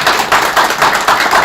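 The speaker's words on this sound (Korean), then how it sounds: "여러분들 큰 박수 한번 보내드리시고요." Rhythmic audience applause at an international forum on fair elections, loud and close, with the crowd clapping in unison in steady pulses about every quarter second.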